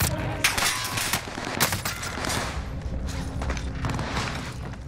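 Shotgun blasts in Call of Duty Warzone on Rebirth Island ring out as several sharp, loud bangs in quick succession amid busy game noise.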